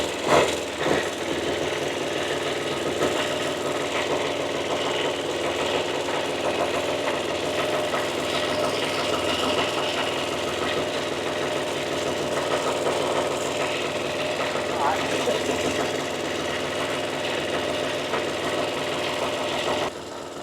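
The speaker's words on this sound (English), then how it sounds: "The guys let the pony motor warm up until it's good and hot" Pony motor on a rare Caterpillar Diesel 70 running and warming up, a loud, continuous rapid chatter of a small engine with steady vibration, close and unbroken throughout.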